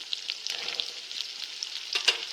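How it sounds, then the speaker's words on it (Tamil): Drumstick pieces, onion, brinjal and curry leaves sauté in hot oil, giving a steady, fairly quiet sizzle with small crackles and a stirring scrape. "கருவேப்பிலை போட்டு நல்லா வதக்கிக்க போகிறோம்"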